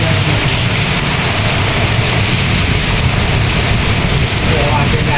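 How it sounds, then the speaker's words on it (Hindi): Heavy rain and strong storm wind in a village, a loud dense roar of downpour and gusts filling the whole stretch, steady and close. "देख सकै छी कतेक भारी वर्षा भ रहल छै। तूफान बहुत ज़्यादा छै"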